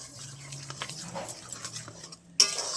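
A spoon stirs semolina in a pan, with quiet scraping and light clinks against the metal that end in a sharper clatter.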